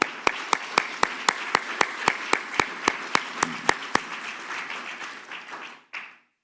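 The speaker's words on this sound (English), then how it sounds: "Please join me once more in giving him a round of applause." An audience applauds at a tourism ambassador speak-off event, a steady wash of clapping with sharp rhythmic claps near the front that gradually thins and fades out toward the end.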